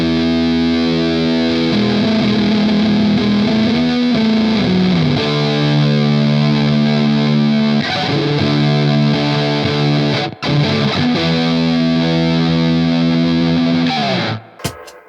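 An electric guitar played through a distortion pedal in overdrive mode with gain at about two-thirds, loud and close, with sustained crunchy chords that shift every couple of seconds, a brief break near the end, then a final ring-out.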